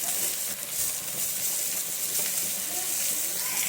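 Fish sizzles steadily in a very hot, lightly oiled pan, a close, dense, continuous frying hiss with small crackles throughout.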